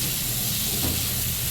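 Vegetables cooking with pav bhaji masala and coriander-cumin powder sizzle steadily in a pan for pulao, a close, continuous frying hiss with faint stirring and no talk.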